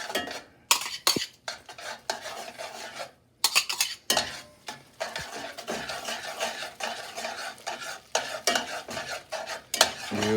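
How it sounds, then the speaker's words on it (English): Egg, Parmesan and black pepper mixture being rapidly tossed through carbonara pasta in a pan: repeated close scraping and clinking strokes of a utensil against the pan, with soft wet sizzling between them, in an irregular, busy rhythm without speech. "Now this mixture that we did with the egg and the Parmesan cheese and some black pepper. We're gonna add this and rapidly move it around."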